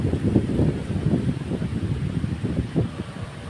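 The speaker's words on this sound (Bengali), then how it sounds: "শুধু বাতাস আর বাতাস" Steady wind blows across a wide stretch of open water near a village, a continuous low rushing and buffeting with gusty swells, no voices.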